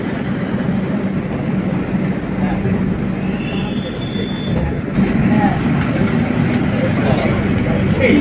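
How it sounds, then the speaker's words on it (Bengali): A Kolkata metro train runs on a parallel track, heard from inside another moving metro car: a continuous loud rumble, with a series of short high electronic beeps in the first half and a voice faintly present. "প্যারালেলি ওদিকে একটা ট্রেন যাচ্ছে"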